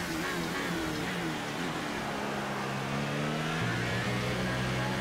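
An F1 car engine in the F1 2018 racing game revs steadily as power goes on, with a harmonic whine that climbs in pitch toward the end and holds at a constant loud level throughout, with no talk.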